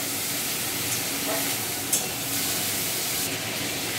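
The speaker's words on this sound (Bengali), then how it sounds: "একটু হালকার ওপরই ভাজতে হবে চিংড়ি মাছটা" Prawns frying lightly in hot oil, a dense, even hiss and crackle held at a steady level, with one brief clink partway through.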